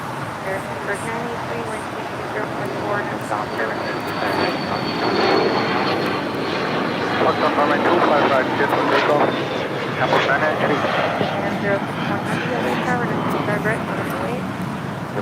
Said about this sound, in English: This Gulfstream G200 Galaxy is taking off to Livermore, California.